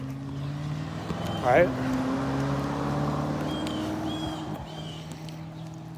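A Lamborghini engine running with a steady, low, droning hum throughout and one brief louder rev partway through, heard from nearby outdoors while someone talks over it.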